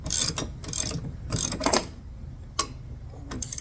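Bolts tightened on the front wheel of a Scag Tiger Cat mower, with several short bursts of ratcheting clicks, close up, then sparse single ticks.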